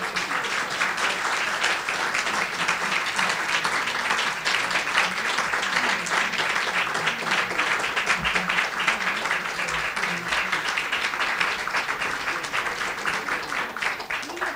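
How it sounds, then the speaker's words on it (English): Sustained audience applause for Maestro Queler at an opera talk, a dense, even wash of many hands clapping that holds steady throughout. "I ask you to give her a preventive applause"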